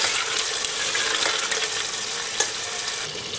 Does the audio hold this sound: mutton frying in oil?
yes